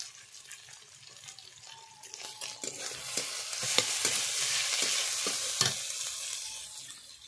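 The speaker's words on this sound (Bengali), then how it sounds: "ওর মধ্যে দিয়ে দেবো টমেটো কুচি।" Chopped tomato pieces go into a pan of onions fried until reddish brown, setting off a close, steady sizzle with scraping stirs and a few sharp clinks of a spoon against the pan.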